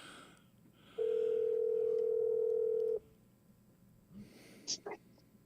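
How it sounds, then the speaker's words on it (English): A steady telephone tone sounds for about two seconds, loud and clear against a quiet room, followed by faint breathing and brief high electronic chirps. "Did you just dial me on the other phone?"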